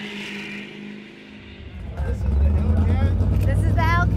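A Dodge Charger Hellcat at the drag strip, engine swelling from a low idle into a loud, deep, sustained rev with a harsh growl, while people talk close by over it.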